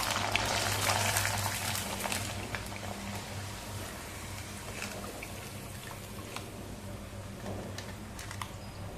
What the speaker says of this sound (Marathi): आणखी एक आपण तेलामध्ये पापड घालूया तळण्यासाठी.